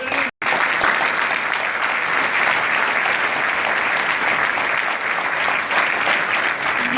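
Sustained, even applause from a political rally crowd in La Rochelle welcoming a candidate, a dense wash of clapping that continues unbroken after a brief opening gap.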